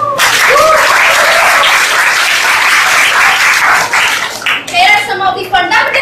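Loud, dense applause and cheering from a large audience at a motivational talk on worry, a steady roar of clapping that fills the whole stretch, with some scattered shouts near the end.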